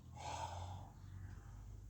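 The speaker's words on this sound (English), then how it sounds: "Opening the bellows and drawing the breath in" A single deep, forceful inhalation in bellows breathing during a seated exercise, a close breathy rush that swells and then fades into quiet.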